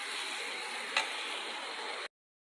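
A paste of cumin, ginger, turmeric and green chilli frying in a pan: a steady, close hiss of sizzling with one brief clink partway through, ending abruptly after about two seconds.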